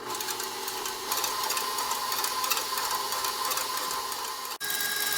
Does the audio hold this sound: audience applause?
no